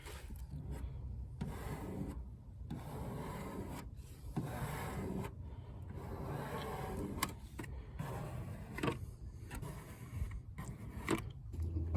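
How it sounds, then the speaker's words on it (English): A round plastic card squeegees a wet vinyl decal onto a car body, making repeated soft rubbing and scraping strokes with brief pauses between passes, close and fairly quiet. "I'm gonna squeegee it out with this round 1 card."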